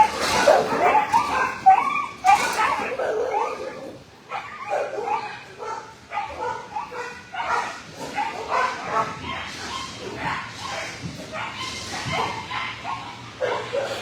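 Many dogs in an animal shelter barking, yipping and whimpering at feeding time, a dense, continuous chorus echoing in a hard-walled kennel room, loud and near with some talk underneath.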